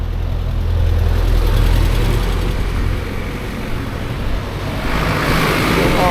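Motorcycles idle at the highway's highest point on Mt Timbak in Atok, Benguet, with a steady, loud, low engine rumble that stays even throughout and has no talking over it.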